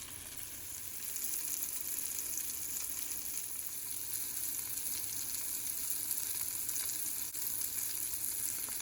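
Steady, crackling sizzle of sausages frying in butter in a pan, continuous and close, with no talking.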